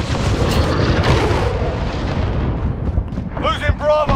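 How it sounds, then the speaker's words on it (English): A cruise missile explodes in the video game Call of Duty: Modern Warfare (2019). A loud, sustained roaring blast rumbles and slowly fades. Sharp gunfire cracks follow near the end, and radio voices talk over the battle. "Enemy cruise missile incoming."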